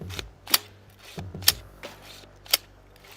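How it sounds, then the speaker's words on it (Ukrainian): A UAR-15 rifle's action clacks as it is worked by hand after being filled with sand, three sharp metallic snaps roughly a second apart with a faint gritty rasp between them, close and otherwise quiet. "Чуєте, з'явився шерхіт піску."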